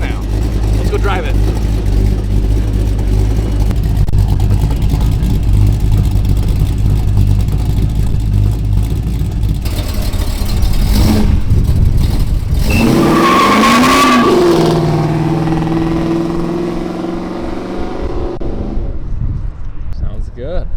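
Budget Camaro with a choppy cam and raised compression idles loudly with a lumpy rumble, then revs and pulls away, engine note rising sharply before fading toward the end.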